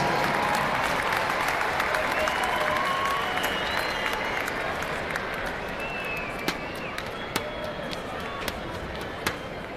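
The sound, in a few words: applause from an arena crowd at a lacrosse game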